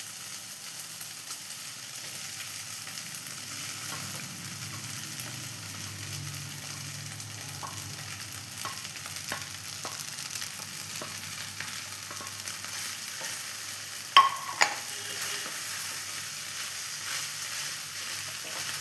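Cut idli being stirred into frying turmeric and chili masala for idli upma, a soft continuous sizzle with scattered scraping clicks of a spoon against the pan, faint and close, no talking.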